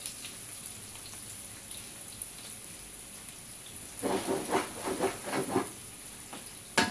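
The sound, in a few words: onion frying in palm oil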